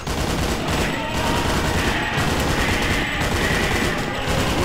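Gunfire in the video game Painkiller, with sustained automatic fire and overlapping shots forming a dense, loud, continuous barrage that pulses roughly once a second.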